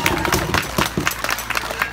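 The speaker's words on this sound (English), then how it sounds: "can I get a huge round of applause?" Scattered clapping and crowd noise from an audience at a cosplay awards ceremony at Hanford-Visalia Comic Con, a modest, uneven round of applause mixed with babble and voices.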